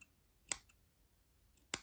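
Scissors snipping crochet yarn strands, two crisp close cuts about a second apart, each with a sharp click, in an otherwise quiet room.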